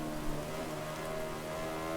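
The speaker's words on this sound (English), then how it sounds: "We are in the rain" Steady rain falls across the Assen circuit in the MotoGP 2021 racing game, a continuous even hiss with a low engine-like hum beneath, no voices.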